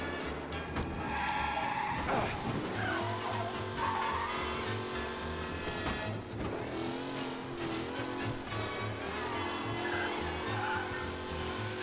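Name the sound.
car skidding and spinning out in a video game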